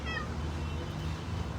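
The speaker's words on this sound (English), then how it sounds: "with a cat behind me" A cat meows once, short and fairly close, against a steady low background hum at dusk in Jerusalem.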